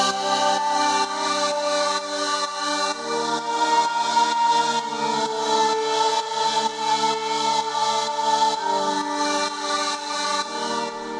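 Layered synth pads built in Logic Pro X, including a Zenpad voiced with a perfect fifth, swell together into a dense, sustained chord with gentle rhythmic pulsing that shifts harmony partway through; loud and continuous, with no talking.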